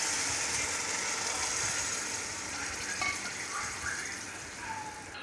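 Water pours steadily into a cooking pot holding rice and minced meat for qeema pulao, making a continuous close splashing rush for about five seconds that eases slightly toward the end.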